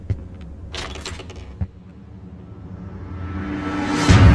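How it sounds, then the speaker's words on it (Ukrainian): Keys are picked up in a horror video game, a brief metallic jingle near the start followed by a few soft clicks and a rising whoosh, with no talk. "підбираємо ключі"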